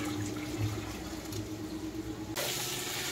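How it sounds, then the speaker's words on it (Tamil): Water from cooked rice being drained off while making potato biryani, a steady close pouring and splashing that continues throughout and gets slightly brighter toward the end, with no voices. "இப்போ நம்ம சாப்பாடு வடிச்சிடலாம்."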